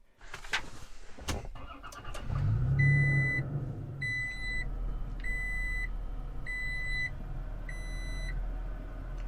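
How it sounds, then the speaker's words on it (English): A 2022 Toyota Tacoma TRD Pro cranks and fires up, then its engine settles into a low idle while five evenly spaced electronic beeps chime clearly over it. "there's a lot of beeping when you start it up"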